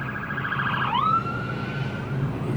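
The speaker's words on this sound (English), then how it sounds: "I can hear some sirens coming from some direction, but I've got no idea where" Emergency vehicle siren sounding through UK road traffic, heard from inside a Mercedes Actros HGV cab, a steady wailing tone that sweeps down then holds, moderately loud over constant engine rumble.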